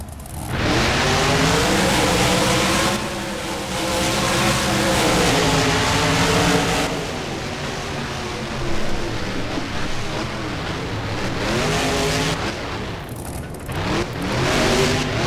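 Monster truck engines roar and rev loudly in a BeamNG fairgrounds race, swelling and dropping in pitch as the trucks accelerate, with no talking over them.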